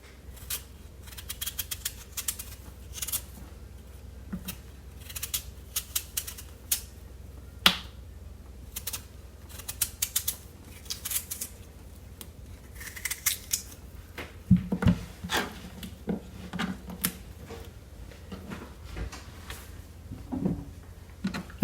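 A chayote (chocho) is peeled by hand in a kitchen, producing light, irregular scraping clicks and small snaps at close range, quiet against a soft background, with no talking.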